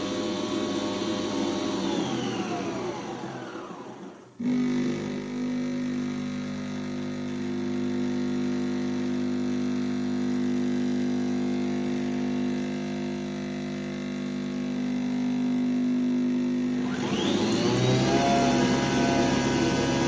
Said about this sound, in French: La machine doit faire le café.